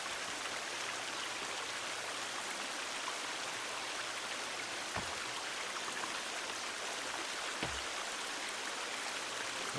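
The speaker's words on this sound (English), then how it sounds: "here's the waterfall" A waterfall in The Forest video game roars as a dense, constant rush of falling water, loud and unbroken throughout, with a couple of faint low thumps and no talking.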